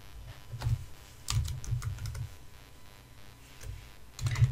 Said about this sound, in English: I'm going to type in the word boy.